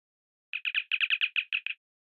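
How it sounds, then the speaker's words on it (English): A communicator chirp sound effect plays alone against silence: a quick string of about ten short, bright electronic chirps, evenly spaced and clean. "Not the transporter, the communicator chirp."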